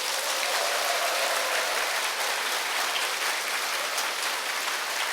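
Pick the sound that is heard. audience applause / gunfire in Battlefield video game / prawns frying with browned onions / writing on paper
audience applause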